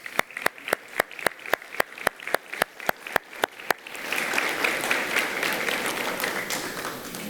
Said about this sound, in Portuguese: Vamos receber com palmas essa nova vida